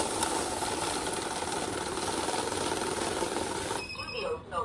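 A cash counting machine riffling through a stack of banknotes, a steady fast whirring flutter close by that runs continuously before cutting off near the end.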